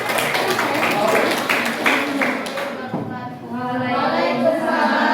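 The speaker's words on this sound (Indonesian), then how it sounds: "ya, tepuk tangan." Classroom applause from a class of students clapping hands for a presenting group, a dense burst of claps for about three seconds, then fading into room murmur and soft talk.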